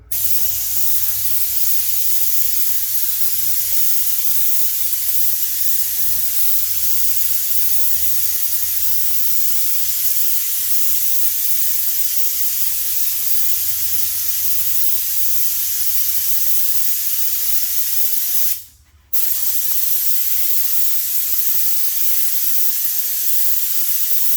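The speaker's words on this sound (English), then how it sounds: "Just go through and spray it." A sprayer blasts material across an indoor floor area before tile or laminate goes down, making a loud, steady hiss that runs continuously with one brief cutoff near the end.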